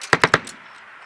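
A vehicle-mounted machine gun fires a rapid burst of three sharp, loud shots during live-fire military training, followed by a fainter fourth report and a brief echoing tail.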